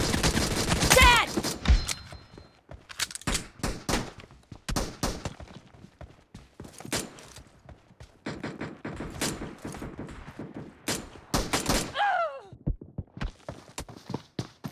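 Gunfire in a team-based shooting video game, with repeated sharp shots in irregular bursts throughout, one louder cluster near the start, under faint background game sounds and occasional voices.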